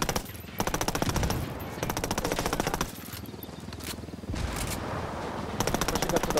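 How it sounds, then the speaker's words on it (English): Rapid automatic gunfire in a military operation game rattles in repeated long bursts with short gaps, steady and moderately loud, while a voice talks over parts of it. "Follow my gunfire."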